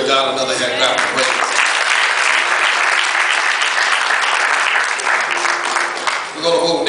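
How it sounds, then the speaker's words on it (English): A large church congregation claps and cheers loudly and continuously, with a voice speaking briefly at the start and end. "give God another hand clap of praise"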